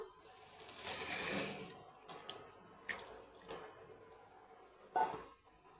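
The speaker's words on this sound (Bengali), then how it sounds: "এখন আমি সেদ্ধ হওয়ার জন্য জল দিয়ে দেবো" Water is poured into a pan of fried papaya with soybean and spices, making a close splashing pour followed by a few smaller splashes and clinks, and no voices.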